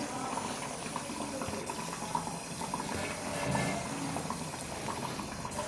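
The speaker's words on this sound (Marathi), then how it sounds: "ही चहाची गाळणी जी घरामध्ये असते आपल्या, तिला पण असं पाणी लावून घ्यायचं।" Water runs from a tap over a tea strainer in a home kitchen while the cook readies it for shaping mendu vada batter, a steady close splashing trickle throughout with light clinks.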